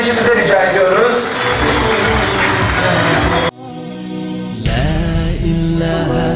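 Applause from the audience at a Quran course graduation ceremony, a dense burst of loud clapping mixed with voices that cuts off abruptly midway, followed by quieter tonal sound.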